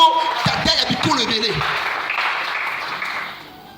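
A church congregation breaks into loud applause to praise the Lord, a dense clapping wash with a few cheers and voices that starts strong and slowly fades over a few seconds.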